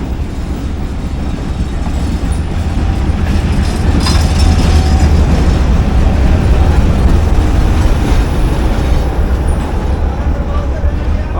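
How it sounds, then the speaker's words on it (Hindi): A Pak Business Express passenger rake of brand-new coaches, hauled by an RGE20 locomotive, rolls slowly into a station platform with a continuous rumble, wheel clatter and faint squeals, steady and close. Someone talks over it. "प्लेटफॉर्म नंबर 4 पर दोस्तों RG20 5124 की पावर के साथ 34 टन पाक बिज़नेस एक्सप्रेस का रैक प्लेस हो रहा"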